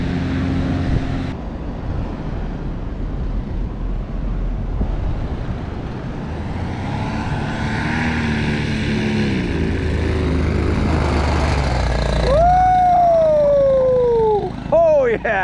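A fast 5XS aircraft landing in light wind, its engine note loud and sustained with a howling tone that rises and sweeps near the end, while people cheer and shout over it.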